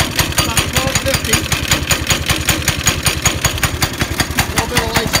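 A small engine on a snow cart idles at about 1250 rpm with a steady, rapid chugging pulse, close and loud throughout.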